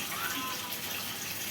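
Water splashes and pours steadily while a pet is bathed at home, a continuous close gushing wash with voices talking faintly beneath it.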